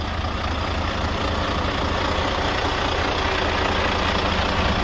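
A Volvo VNL truck with a Volvo D12 diesel engine idles steadily and loudly up close, a continuous low rumble with no talk over it.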